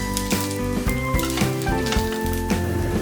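An oats and vegetable chilla sizzles steadily in an oiled pan just after being flipped. The continuous crackling hiss runs under a faint tonal hum.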